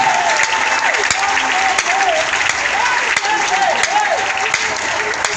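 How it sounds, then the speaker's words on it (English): A church congregation applauding, with sustained, dense clapping heard close and loud throughout, while a voice talks over it. "you can clap"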